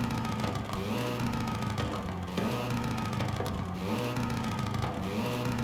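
Car engine in Forza Horizon 5 drones at a steady mid-pitched note with a whirring, vacuum-like tone, broken by repeated crackles and exhaust pops through a shift near the middle, continuous and close with no talk.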